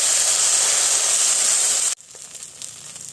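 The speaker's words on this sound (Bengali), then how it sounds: "মশলার প্লেটটা ধুয়ে জল দিয়ে দিচ্ছি একটু" Water from a rinsed plate of ground ginger, cumin, pepper, dried chili and coriander pastes hits a hot pan for a jackfruit curry, giving a loud rushing steam hiss for about two seconds that cuts off abruptly into a quiet simmer.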